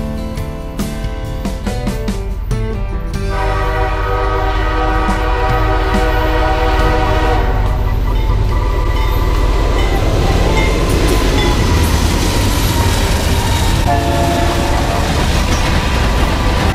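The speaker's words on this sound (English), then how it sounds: "have a little gander at this train going by" A train passing close by, opening with loud sustained horn blasts that give way to a steady roar and rumble of rolling rail cars, loud throughout with no talking.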